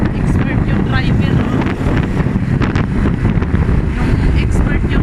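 Motorcycle ride to a feast in the Visayas, with heavy, constant wind buffeting the microphone and a low rumbling roar throughout, no clear voices.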